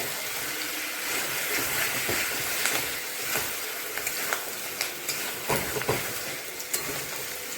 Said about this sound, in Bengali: আর একটা কড়াইতে আমি আলুটা ভাজা করে নিচ্ছি।